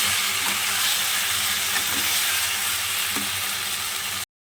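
Fried potatoes stir-fried with spices in a pan for homemade biryani make a loud, steady hiss of frying with faint occasional scrapes, then cut off abruptly.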